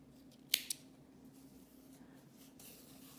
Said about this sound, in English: We're gonna cut the yarn, leaving a long tail for sewing.